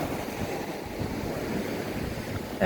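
Sea waves wash onto a beach at evening, a steady broad roar of surf mixed with wind buffeting the microphone, close and continuous throughout with no talk.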